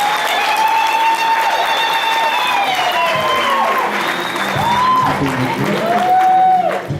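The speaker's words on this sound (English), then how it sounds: "Another round of applause." Sustained audience applause fills the hall at the close of an inspirational sermon, steady and dense throughout, with sustained tonal voices or music lines running over the clapping.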